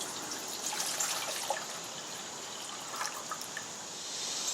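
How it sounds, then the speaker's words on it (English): Two cups of water poured into a cook pot beside an alcohol camp stove, a steady soft trickle and splash running continuously for several seconds at moderate level. "I'm going to take my 2 cups of water,"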